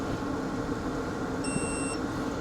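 A single short electronic beep, clear and moderately loud, sounding once against steady background hum and noise.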